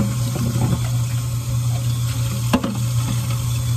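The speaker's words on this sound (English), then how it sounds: "Let's rinse this stuff out" Water runs steadily from a tap into a sink while things are rinsed, a constant nearby rush with one brief clunk partway through.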